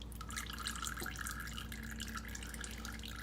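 Engine oil drains from a John Deere 3020 tractor in a steady trickling, dripping stream, continuous and moderately close with a constant low hum underneath and no talking.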